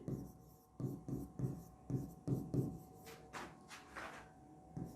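A pen or chalk writes a definition in a classroom lecture, giving quiet rhythmic scratching strokes with a few sharper taps and scrapes near the end, close but soft.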